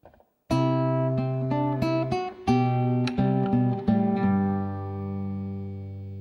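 An acoustic-sounding guitar plays a brisk melodic passage from measures 11 and 12 of Minuet in G, plucked notes over bass, ending on a sustained chord that fades out.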